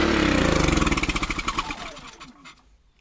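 A small engine fed on wood gas from a homemade gasifier, with a history of wood-tar clogging, runs loudly with a steady pulsing beat, then sputters and winds down to a stop over a few seconds.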